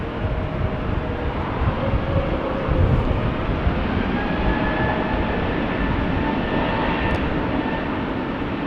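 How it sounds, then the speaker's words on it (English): An EasyJet Airbus A320neo bound for Palma de Mallorca takes off from Amsterdam Schiphol, a steady distant jet roar holding evenly throughout without any talk. "While an EasyJet A320neo to Palma de Mallorca is cheating. Taking off over there."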